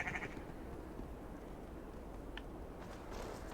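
Sheep bleat in the video game Assassin's Creed Valhalla, a short faint bleat at the start and another brief one midway over a constant ambient game background.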